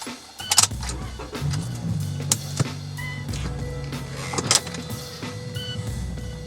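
A 2017 Toyota Corolla at the start of a test drive: a steady engine hum from inside the car, with a power window motor whirring and a few clicks and knocks.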